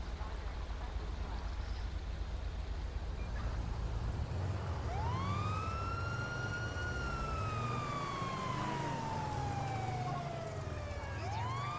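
A police car siren wails in GTA V's LSPDFR police mod, starting partway through and sweeping in long rising and falling cycles, loud and close over a steady engine and traffic drone.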